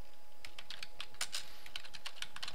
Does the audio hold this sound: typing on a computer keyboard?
yes